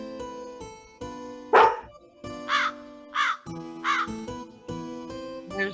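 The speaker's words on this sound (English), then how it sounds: "There's the crow." A crow caws several times at a steady rhythm, clear and fairly close, over a background of sustained electronic tones.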